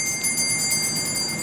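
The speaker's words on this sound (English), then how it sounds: "we went to an Amish hardware store and got a reproduction shopkeeper's bell" A reproduction shopkeeper's bell from an Amish hardware store rings clearly and close, with bright sustained metallic tones and quick repeated jingles over about a second and a half.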